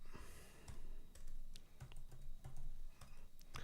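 Someone types the body of an email on a computer keyboard, a run of close, crisp key clicks in an irregular rhythm with a soft background rumble.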